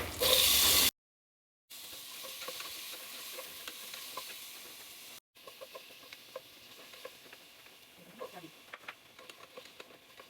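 Onions sizzling in olive oil in a pan for corned beef sinigang, a steady crackling hiss with small pops and spatters, close and moderate, after a brief loud burst and gap at the start.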